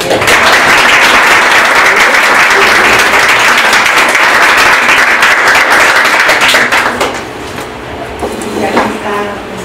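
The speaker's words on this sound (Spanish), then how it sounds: "que es un aplauso para ti" A seminar audience breaks into loud, dense applause that carries on steadily for about seven seconds, then thins and fades to scattered clapping and quiet room noise.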